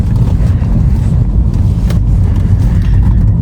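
A cheap used BMW with an automatic gearbox and an engine oil leak cruises smoothly, giving a loud, steady low rumble of engine, tyres and wind heard from inside.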